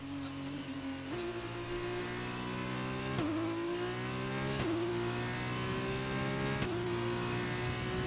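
Formula race car on a flying lap in F1 2020, engine screaming steadily at high revs with repeated sharp gear-change dips, close and continuous throughout.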